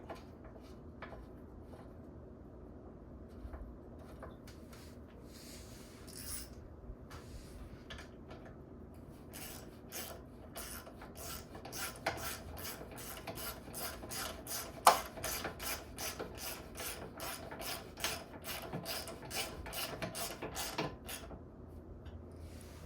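Bolt and lock nut being fitted to the threaded kickstand of a Kawasaki KE175 motorcycle, with close metallic clinks, scrapes and rapid ratcheting clicks building through the second half over a steady background hum.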